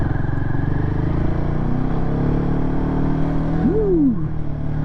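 Royal Enfield Himalayan 450 motorcycle ridden offroad: a close, steady single-cylinder engine drone with a brief rising and falling rev near the end, loud throughout with no talking.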